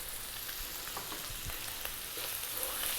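Turmeric hits a hot pan of Ethiopian meat and potato stew, giving a quiet, continuous frying hiss with small crackles and a few soft thumps. No voices.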